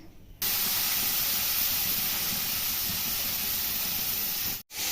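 Washed tomatoes and okra hit hot oil for a Kerala sambar, and a loud, steady, close hiss starts suddenly and holds without a break until it cuts off just before the end.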